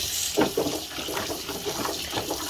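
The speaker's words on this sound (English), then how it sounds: "We're just going to put water in it" Water is poured into a bowl to rinse Korean ramen noodles and rice cakes, giving a soft, continuous splashing trickle with a few louder gushes, close by and fairly quiet.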